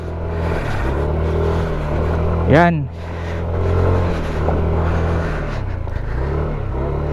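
Motorcycle climbing a rocky uphill trail in the Badian highlands, a steady close engine drone with surges and shifts, a brief squealing sweep midway, while someone talks over it.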